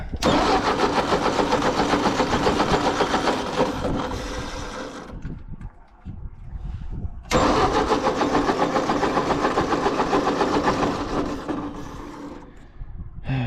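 An old tractor, a Ford or Ferguson Jubilee type, cranks and starts twice, with loud rhythmic chugging bursts separated by a brief quieter gap.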